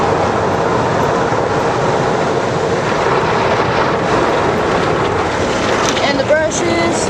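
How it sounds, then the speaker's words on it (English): Car wash brushes scrub the outside of a car at an Auto Spa Express car wash, heard from inside the vehicle as a loud, steady broadband rush with a few brief squeaks near the end. "And the brushes are getting in the car."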